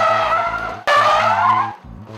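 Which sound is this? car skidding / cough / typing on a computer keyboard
car skidding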